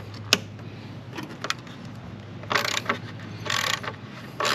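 A ratchet works loose a bolt on an Alfa Romeo Giulia during a turbo repair, giving bursts of quick, close clicking between pauses, with a few metallic knocks and no talking.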